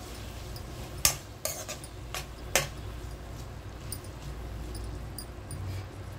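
Tomatoes being stirred into a curry in a pan, with a few sharp metallic clinks and scrapes of a spoon against the pan early on, then a quiet low background.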